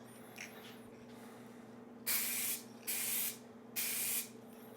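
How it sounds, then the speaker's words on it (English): Spray paint is sprayed from an aerosol can for hydro dipping. Three short, loud, close hissing bursts with brief pauses between them follow a quiet start. "I didn't use the tape method, so that's why I sprayed it from one side to the other."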